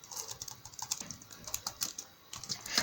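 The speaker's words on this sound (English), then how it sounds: "So let me just type my name." Rapid, irregular keystrokes on a computer keyboard as a name is typed into a Word document header, close and fairly quiet, with a few sharper key clacks and no talking.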